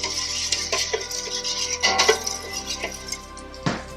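A spoon stirs sugar into homemade Caribbean ginger beer, sending several close, bright clinks and swirling liquid sounds through the container over steady low hum, with no voices.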